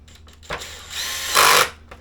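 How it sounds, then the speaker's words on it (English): Power tool tightening a nut and bolt on a hood scoop for a Jeep XJ, two short loud whirring bursts close up, the second longer and stronger. "Tighten it down to a predetermined torque."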